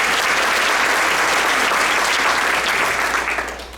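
Loud applause from the audience at a Democratic club meeting, sustained for a few seconds and then tapering off at the end.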